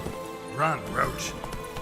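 Roach, a horse in The Witcher 3, gallops with quick, close hoofbeats in a short burst, while a brief voice cuts in over them.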